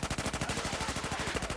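Rapid automatic gunfire from Battlefield 4, a steady stream of evenly spaced shots roughly ten per second, close and loud, running unbroken through the whole burst.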